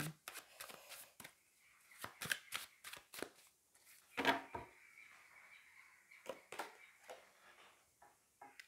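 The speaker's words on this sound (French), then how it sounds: "Allez, on va aller prendre une autre carte." Tarot cards shuffled by hand and drawn from the deck, quick papery riffles and flicks in irregular clusters with one louder slap midway, close and soft against a quiet room.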